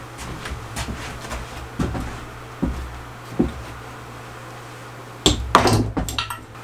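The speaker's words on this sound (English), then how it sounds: "I'm just going to carry my drill press over to the table." A drill press is carried across a workshop and set down on a table, giving a series of scattered knocks and thumps with a heavier cluster of clunks near the end as it lands.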